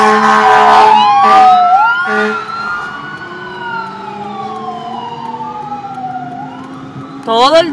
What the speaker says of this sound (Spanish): Todo el día hemos estado escuchando a los bomberos, la ambulancia y todo.